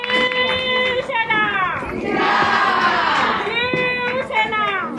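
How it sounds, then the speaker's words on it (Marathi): A crowd at a political felicitation rally breaks into loud, sustained cheering and shouting that swells in the middle, with raised voices before and after. "जोरदार टाळ्या."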